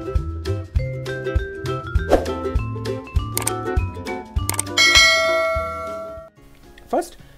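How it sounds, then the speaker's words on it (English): A notification bell ding sound effect: bright metallic chimes and clangs ring out in quick succession over a rhythmic tune, ending with a shimmering ring. "press the notification bell"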